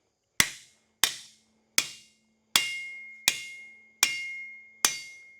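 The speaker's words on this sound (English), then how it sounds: "you can kind of feel the metal squashing when you're hammering" Seven sharp metallic hammer blows ring out one by one at a steady pace as a metal beam-to-post bracket is hammered, each strike bright and clanging with a short ringing decay.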